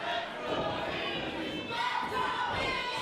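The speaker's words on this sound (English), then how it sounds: "the Logan Square crowd divided between these two competitors." Wrestling crowd at a HOG women's championship match in Logan Square, a dense steady roar of cheering and chanting voices filling the room, with scattered thuds beneath.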